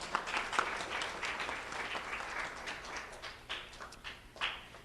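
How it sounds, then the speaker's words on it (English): Audience applause for a student honoree at a school recognition ceremony, steady clapping at moderate distance with uneven swells throughout. "Now let's have a round of applause for Jaden Fuentes"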